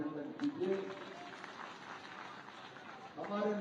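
Audience at a BJP political gathering in Madhya Pradesh applauds MP Mahendra Solanki: a soft, steady wash of clapping fills the middle, with a voice speaking at the start and again at the end.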